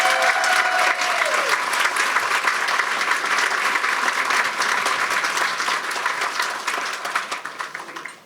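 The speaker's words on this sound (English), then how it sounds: "Please give them a round of applause." An audience claps steadily at a gala dinner, a dense, sustained round of applause from a large crowd in a room, fading out at the end.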